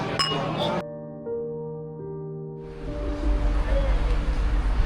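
Glasses chime together in a toast on a Black Sea waterfront in Constanta, a bright clink with ringing tones lingering, then wind and surf noise rise to fill the background.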